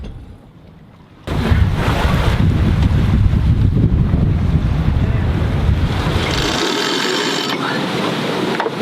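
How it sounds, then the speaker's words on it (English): A sailboat at sea in a good breeze. After a quiet opening, strong wind roars loudly against the microphone, blended with the rush of waves and water. A hiss brightens near the end as the gusts continue. "It is a good breeze."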